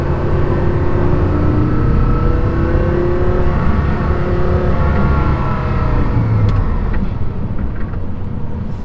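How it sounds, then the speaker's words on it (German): A Porsche Carrera GT's engine drones loud and steady from inside the car while driving, with a deep, continuous roar and slight shifts in pitch as it pulls. Nobody speaks. "Man hat das Gefühl, man hört den Motor richtig so,"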